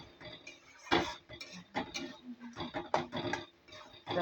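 Dal with spices being stirred in a pot: a spoon scraping and clinking against the metal in irregular strokes, close and fairly quiet, with brief soft sounds between.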